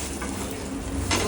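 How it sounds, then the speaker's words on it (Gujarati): Stuffed paratha dough balls fry in hot oil at a Surat street food stall, giving a continuous close sizzle with a stirring scrape and a brighter hiss near the end, no voices. "આવી રીતના બોલ બનાવી દેવાનું. અહીંયા તળે છે."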